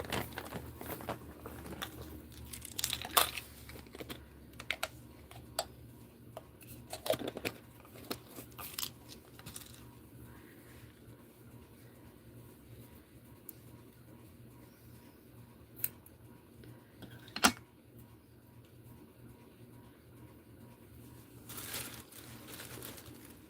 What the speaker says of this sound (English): And then I need my